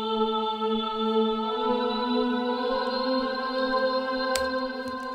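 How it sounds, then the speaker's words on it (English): Alchemy's Choir Male Ooh pad in Logic Pro, set to a muffled tone, holds a steady sustained vocal chord with no effects. The harmonics are rich and unbroken, and the note shifts slightly partway through, while faint clicks sit in the background. "It's choir male ooh, and I go to muffled, right?"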